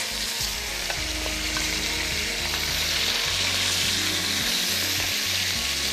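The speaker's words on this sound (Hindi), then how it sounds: "Tawa fry chicken" Chicken frying in oil on a tawa, a loud, steady sizzle with continuous stirring and scraping layered over it, close and constant throughout.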